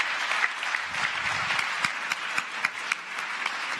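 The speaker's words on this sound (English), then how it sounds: "let's give a round of applause" Audience clapping after a pitch at the Startup World Cup Finland 2018 startup competition, a steady, moderately loud patter of applause with a few sharper individual claps standing out near the end.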